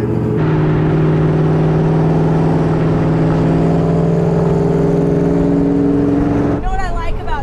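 A big V8 engine in a 1960 Ford F250 truck idling high and steady with a loud, rumbling drone close by, cutting off near the end as brief chatter takes over.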